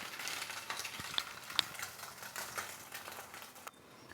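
Vermicelli egg dosa frying gently in oil on low heat, with a soft continuous sizzle and scattered light crackles, plus a couple of small utensil clicks near the end, no voices.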